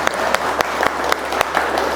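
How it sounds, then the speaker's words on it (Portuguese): An audience at a workplace safety talk applauds for the women who prepared the coffee, a steady dense patter of many hands with a few sharper claps standing out, continuous for a couple of seconds. "uma salva de palmas para as meninas"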